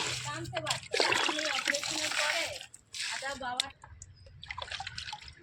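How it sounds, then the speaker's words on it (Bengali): Water poured onto newly planted garden plants, splashing and trickling in bursts with pauses, close by, while someone talks over it. "সেই গাছগুলোতে জল দিয়ে নিচ্ছি"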